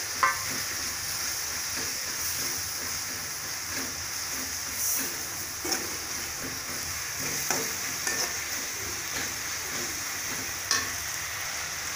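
Chopped tomatoes fry for a mutton curry, giving a steady, dense sizzle with soft scraping stir strokes and occasional sharper pops, close and continuous throughout.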